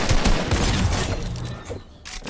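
Rapid bursts of gunfire from the video game Fortnite, dense and loud at first, then thinning out and fading near the end with a brief return, no voices.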